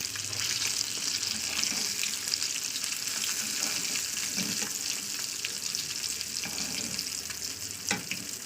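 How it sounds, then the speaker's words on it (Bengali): Fish fry in oil in a pan, a dense, steady sizzle heard up close for the whole stretch, with a few faint clinks and shifts but no talking. "আমি অফ ক্যামেরায় মাছের একটা পিঠ উল্টে দিয়েছি, কারণ আমার এক পিঠ মাছ ভাজা হয়ে গেছে।"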